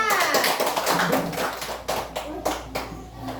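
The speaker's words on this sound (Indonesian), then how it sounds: "Oke, tepuk tangan untuk Nabila" Fourth-grade children in an Indonesian classroom clap their hands in a scattered, quick round of applause for a classmate, with voices mixed in.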